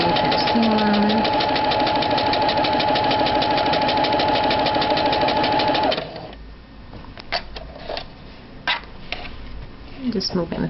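A sewing machine runs steadily as it stitches a French seam with a 3/8 inch seam allowance, a rapid even whir for about six seconds before it stops, leaving quiet handling noises and small clicks.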